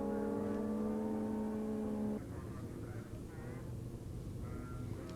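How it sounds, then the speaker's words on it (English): Suzuki GSX-R streetbike smoking its rear tyre at a race meeting, a loud steady engine drone with strong harmonics for about two seconds, then dropping to a rougher, quieter running note with mixed background noise. "Now another GSXR, and this time smoking the tyre is Kevin Harris."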